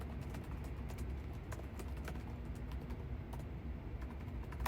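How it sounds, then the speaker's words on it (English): Quiet, rapid clicks of keys on a computer keyboard as a password is typed into a Linux terminal, a steady run of close, light taps with no voices. "Type in my password and we'll get going here."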